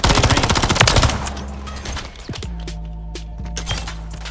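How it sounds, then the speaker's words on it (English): Rapid automatic gunfire from the Black Ops 6 video game, a dense burst of close, loud shots for about a second, followed by sparser single shots and a low game drone. "The fuck are you shooting at, bro?"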